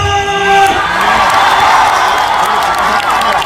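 A festival crowd at the Daejeon Hyo Culture Root Festival bursts into loud applause and cheering, with whoops and shouts over dense clapping that stays strong and close throughout.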